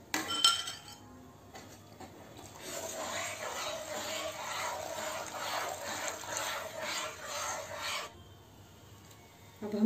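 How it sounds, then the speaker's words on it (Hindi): Milk is stirred in a metal pan as it thickens, a spoon scraping and rasping against the bottom in a steady rhythm for several seconds, close and quiet. "दूध को गाढ़ा होने तक हमें चलाते रहना है।"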